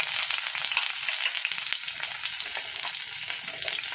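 Whole spices, garlic and ginger frying in a pan for paneer kadhai, a close, continuous bright sizzle and crackle with no talking.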